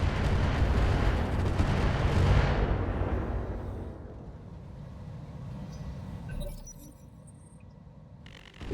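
Artillery fire in a video game, a loud sustained rumbling barrage that fades away over several seconds into quieter background noise, with a brief sharp crackle near the end.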